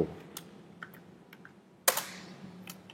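Computer keyboard typing while coding a property sales website, a few sparse close keystrokes followed by one sharp loud key strike, then a couple of lighter taps in a quiet room.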